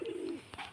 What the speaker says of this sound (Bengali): ওটা ভালো কোয়ালিটি পায়রা যেটা ডাকছে দেখতেই তো পাচ্ছ।